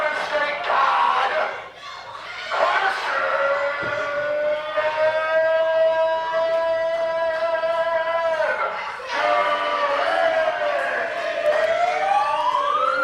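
A loud siren wails at a wrestling show entrance, its tone rising and holding steady, then rising again, over crowd noise and voices.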